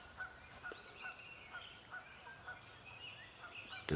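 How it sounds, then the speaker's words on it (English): At an early-morning campsite in Spruce Woods Provincial Park, a grouse gives a series of faint, repeated clucking calls from some distance, spaced through an otherwise quiet outdoor stillness. "You hear the grouse?"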